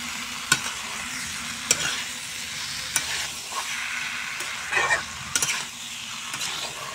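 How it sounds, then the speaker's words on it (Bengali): Fried eggplant is stirred with spices in a pan for a dried-fish potato curry, giving a faint, steady sizzle broken by a few sharp scrapes and clinks of the spoon against the pan. "বেগুন দিয়ে আবারও মশলার সঙ্গে ভালো করে মিশিয়ে নেব"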